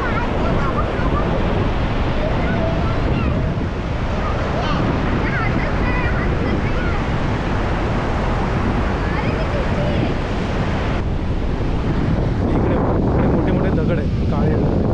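Sea waves crash loudly and continuously against black rocks at a Konkan beach near Rajapur, a dense roaring surf mixed with wind buffeting the microphone, with no clear talk.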